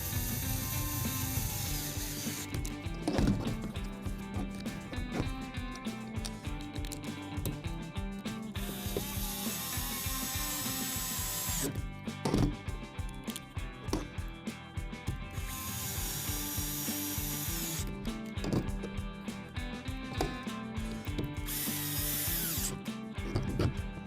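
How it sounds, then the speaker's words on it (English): Screws are driven to fix a centrifugal motor to a lance shell on a DJI T100 quad nozzle row crop kit, with close repeated ratcheting clicks and mechanical whirring in bursts separated by short pauses. "connect and attach the centrifugal motor to the lance shell with the 3 screws"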